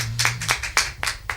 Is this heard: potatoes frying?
no